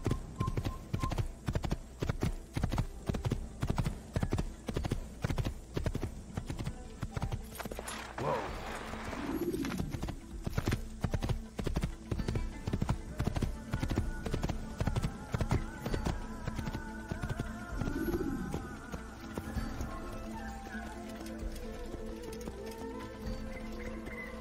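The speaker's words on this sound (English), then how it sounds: "you're riding that horse too fast" Steady rhythmic hoofbeats of a galloping horse in Assassin's Creed, loud and continuous, with a brief whinny-like sound partway through.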